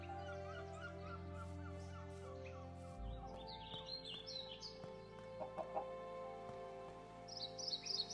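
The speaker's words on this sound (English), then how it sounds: "So when the chicken makes sounds, it sounds like it's on the other side of a wall." A chicken in a video game clucks behind a wall, sounding muffled and faint, with soft repeated clucks over a low background hum and gentle music.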